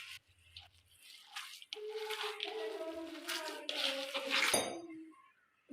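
Hands knead a soft chapli kabab mixture with gram flour, giving wet, squishy pressing and slapping sounds in a steady, continuous rhythm up close, with no talking.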